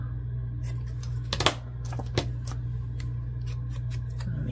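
Scissors snip through white paper in a cluster of crisp, close cuts followed by a few fainter snips, over a steady low background hum.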